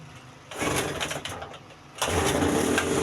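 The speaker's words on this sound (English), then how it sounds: "So the generator have started." A Tiger generator engine is pulled into life, with a rough sputtering burst followed by a steadier loud running clatter, while a bird calls faintly nearby.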